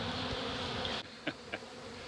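A swarm of honey bees hums in an outdoor bee yard, a dense, steady buzzing close by with a few brief louder passes as individual bees fly near.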